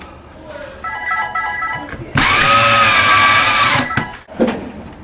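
A power drill drives a screw into drywall during a cable installation: a short whir, then a steady loud whine for about two seconds as the screw goes in, ending abruptly.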